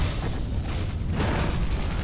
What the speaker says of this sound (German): Irgendwas ist jetzt explodiert